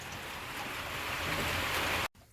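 Steady rain falls outdoors as a fairly faint, even hiss of drops on surfaces during a monsoon bhajiya-frying outing, then cuts off abruptly near the end.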